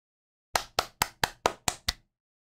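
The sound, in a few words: clapping hands in applause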